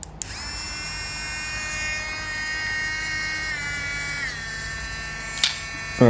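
Dremel Stylo Plus rotary carving tool with a 105 carving tip whines steadily at close range, a high even motor pitch that dips slightly partway through, with a brief scrape near the end.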